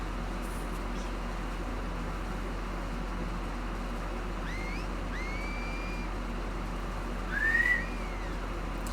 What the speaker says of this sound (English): Imagine joining the Scars and not being able to whistle.